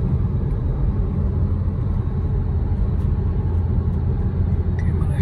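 2014 Nissan Juke Nismo RS travelling over a rough road, a steady low cabin rumble of road and engine noise that runs continuously at moderate loudness without any talk.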